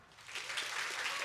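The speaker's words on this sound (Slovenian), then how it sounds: "Vsaka šola si zasluži en gromki aplavz." Applause for a school at a choir festival in Maribor, a crowd clapping steadily and swelling slightly over a brief moment.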